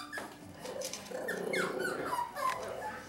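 Puppies squeaking in a run of high, thin whines and yelps, several short cries rising and falling close by, with no talking.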